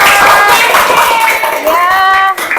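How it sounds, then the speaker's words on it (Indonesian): Classroom applause for a student group, a brisk burst of clapping from many hands close by, fading toward the end while a voice speaks over it. "Tepuk tangan buat kelompok 2 ya."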